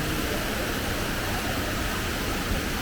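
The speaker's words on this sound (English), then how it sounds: "They have made some sort of little waterfall there." A small artificial waterfall in Tseung Kwan O Plaza, a Hong Kong shopping mall, produces a steady, broad rushing wash of falling water that fills the space evenly without pause.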